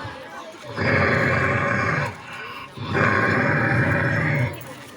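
A performer at a school talent-fair mimicry contest imitates a lion with two long, loud, rumbling roars separated by a short pause.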